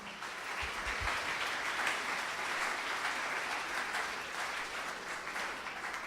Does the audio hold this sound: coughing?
no